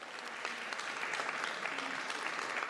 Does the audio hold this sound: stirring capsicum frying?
no